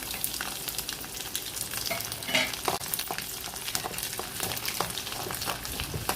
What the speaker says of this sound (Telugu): ఇప్పుడు తెల్లగడ్డలు వేసుకుంటున్నాను